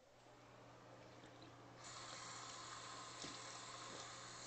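Water runs steadily from a tap, a continuous hiss that swells louder partway through and carries on unbroken, with no one talking.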